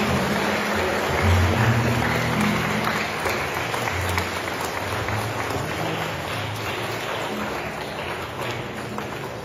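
Congregation at a Sunday Mass for the Presentation of the Lord warmly applauding the liturgical participants, a sustained, spacious patter of clapping in a reverberant church, with faint voices underneath early on.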